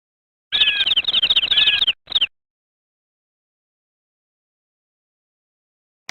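A short burst of bright, rapid chirping from a chaffinch in a video game, about a second and a half, then a brief final trill and silence.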